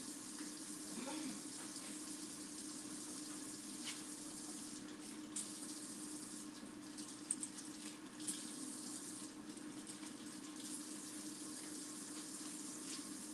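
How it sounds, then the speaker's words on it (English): Warm tap water runs steadily into a sink while tomatoes are washed by hand, a continuous soft hiss with faint splashes and occasional light knocks. "I'm putting them under warm water, running my hands around them, running water around hands and things."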